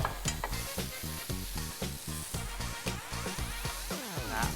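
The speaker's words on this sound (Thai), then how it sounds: "เดี๋ยวเราจะเอามะเขือเทศออกจากกระทะก่อน" Steady sizzling and frying of tomatoes with repeated stirring scrapes in a pan, loud and close, continuing throughout with no talk.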